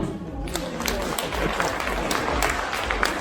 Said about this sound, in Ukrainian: Давайте ми зааплодуємо.